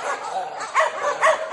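Dogs at a shelter in the Philippines barking and yipping as dinner time approaches, a chorus of mid-distance barks with a couple of louder yelps rising over steady background yapping.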